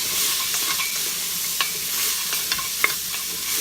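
Cinnamon, turmeric and ginger powder being stirred into Turkish asure dessert in a pot, with a spoon scraping and clicking irregularly over a soft steady sizzle, close and moderately loud, with no talking.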